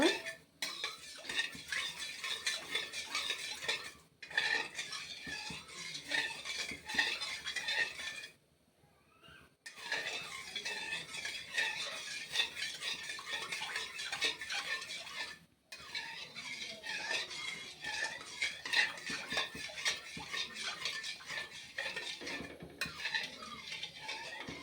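A spoon scraping and clinking steadily against a metal pot as a khurma mixture is stirred, continuous and close, with two brief pauses.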